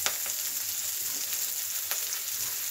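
Curry leaves and chopped coriander crackle in hot tempering oil over a low flame, making a dense, steady sizzle with a few brief sharp pops and no voices.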